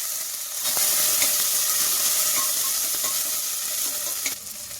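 Small shallots and spices sizzling and frying in hot oil while being stirred, a steady bright hiss with occasional pops and scraping stirs, close and loud, easing off at the end.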